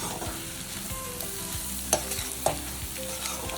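Vegetables stir-fried with salt in a pan over low heat for chicken noodles, giving a steady close sizzle with scraping stir strokes and a couple of sharp clinks.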